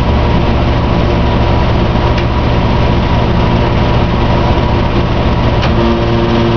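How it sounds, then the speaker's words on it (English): An HVAC compressor in working order runs with a loud, steady, droning hum and a low mechanical throb that holds constant throughout, with no voices over it. "That's normal, working compressor"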